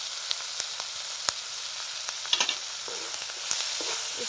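Onion masala with bell peppers is stirred in a pan over a wood-fired stove, giving a continuous soft sizzle of frying with scattered sharp scrapes and taps from the spoon.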